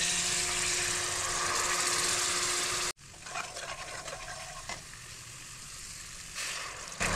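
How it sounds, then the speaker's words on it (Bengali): Black cumin and green chilli crackle in hot oil before spice paste is poured in, shifting a loud, steady sizzle into a softer, bubbling hiss with a few sharp spatters. "এরপর গরম তেলে কালো জিরে কাঁচা লঙ্কা ফোড়ন দিয়ে মিক্সির পেস্টটা ঢেলে দিলাম"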